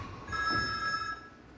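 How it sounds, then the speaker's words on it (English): A telephone rings indoors in one clear, steady burst of bright bell tones lasting about a second, then fades into quiet room noise with no talk. "Doris, you had best answer the phone before we owe the caller an apology"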